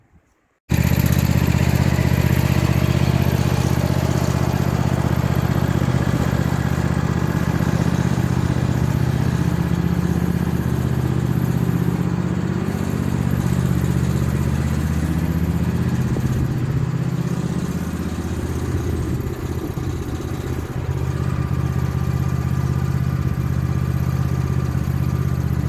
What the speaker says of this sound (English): I've just put the little red tractor away.